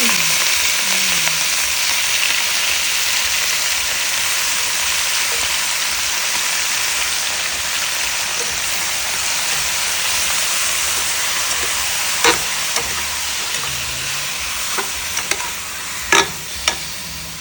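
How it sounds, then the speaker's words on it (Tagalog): Dinuguan, a pork blood stew, steadily sizzles and fries in a pan, a loud, even hiss throughout with a few sharp pops and clinks near the end. "magluluto ulit tayo ng dinuguan"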